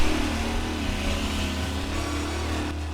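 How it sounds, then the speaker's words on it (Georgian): A car engine in the video game Mafia I drones loudly and steadily throughout, rising slightly as if revving, with a synthetic, game-like quality and no voices. "მაგარი ხმა აქვს ძრავს."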